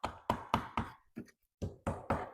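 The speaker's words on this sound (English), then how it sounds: "We just need to hammer them off." Seven sharp hammer knocks in quick succession knocking off drawer knobs, with a brief pause partway through, close and fairly loud.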